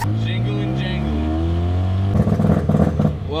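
Mazda RX-7 engine, rebuilt with a new clutch, drones loudly with a steady harmonic tone that slides in pitch, then breaks into rough revving pulses near the end, heard up close.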